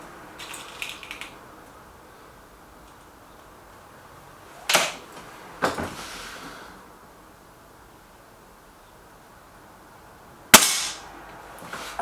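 A Gamo Whisper X air rifle fires with sharp, short cracks: one at about five seconds, another just after, and a louder final shot near the end, each with a brief tail over quiet background.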